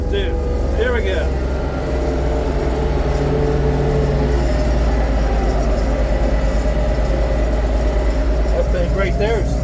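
An LS MT232 compact tractor's diesel engine runs at full throttle while bush hogging a steep field, a loud, steady low rumble with a constant mechanical drone throughout, a person briefly speaking over it.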